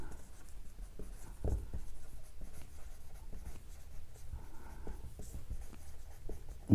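Pen writing on paper during a Class 10 chemistry lesson, faint close scratching strokes in irregular bursts over a quiet room, with no speech.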